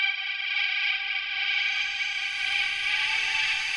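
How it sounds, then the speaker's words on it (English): Harmonized synth-guitar lines shimmer in a bright, heavily reverberated wash, sustained and smooth with a lush, chorused, distorted sheen. "I've got those running full send through a shimmer reverb."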